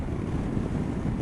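Steady wind roars and buffets against the microphone while riding a 2014 Kawasaki Versys motorcycle on a very windy day, a constant low rush with no pauses and nobody speaking.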